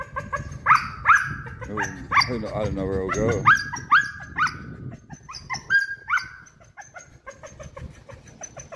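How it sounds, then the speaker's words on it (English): A dog barks repeatedly at a harbour jetty near a galleon, sharp close barks mixed with rooster-like calls and other animal sounds, while people talk over it. "Apart from the super annoying dog."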